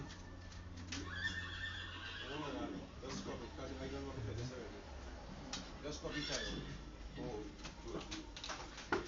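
Horses neigh and whinny repeatedly at a farm camp where horses graze together, with hoof clip-clops and birds cooing in the background, mid-distance and fairly clear.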